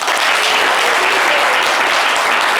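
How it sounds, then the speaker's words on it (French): Dense, loud applause from an audience on a live show, an unbroken wash of clapping that holds steady throughout. "On va l'applaudir, hein."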